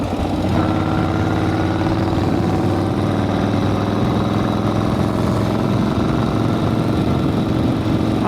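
A motorcycle engine, an old Harley-style bike, idles steadily before a ride with a loud, close, even low rumble throughout and no speech.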